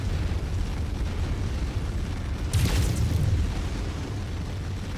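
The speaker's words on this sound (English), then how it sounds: "Explosion" A big mech blows up in MechWarrior 5, a single heavy boom with a burst of crackling debris about midway, loud against a constant rumble of engine and battle noise.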